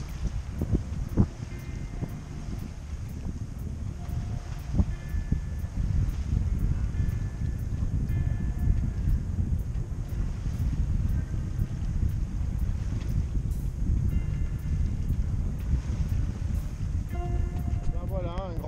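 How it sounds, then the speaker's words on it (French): Wind gusting steadily over a sailboat reefed with two reefs in the mainsail and a partly furled genoa at about 20 knots apparent, a continuous low roar and buffeting with occasional voices underneath. "Le vent forcit un peu, il y a 20 nœuds d'apparent"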